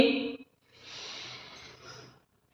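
A slow, steady inhale through the nose while raising the arms during a seated home exercise for the belly and waist. Soft and airy, about a second and a half long, after a brief murmur, close and alone.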